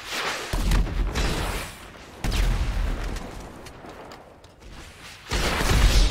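Rocket launcher blasts and gunfire from the video game GTA 5 come as loud, booming bursts: one short volley near the start, a second heavier burst in the middle that fades slowly, and a third strong burst at the end.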